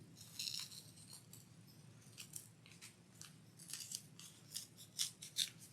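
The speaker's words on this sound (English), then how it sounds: "I'm just going to cut out, hopefully these are sharp enough to do it, some little hearts" Sharp scissors snipping small hearts out of wool for applique, with a series of close, crisp cuts in an irregular rhythm and no talking.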